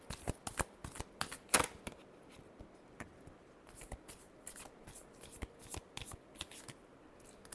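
Tarot cards are shuffled by hand in a steady series of quiet, crisp riffles and flicks, close up and without talk.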